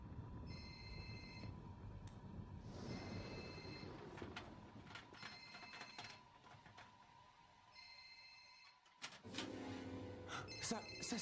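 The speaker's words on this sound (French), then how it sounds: "Ça c'est à Alexis, c'est son téléphone" A mobile phone ringing inside a school locker, its electronic ringtone repeating in regular bursts at moderate loudness, with people talking around it.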